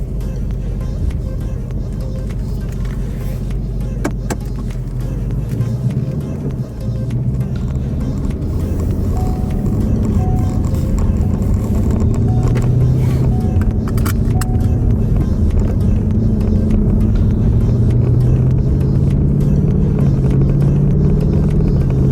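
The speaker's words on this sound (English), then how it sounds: "So now we're to do second or third gear, do a couple slow RPM climbs." Ford Mustang engine making slow RPM climbs at partial throttle in second or third gear, a steady low rumble that rises gradually over time, heard from inside the car.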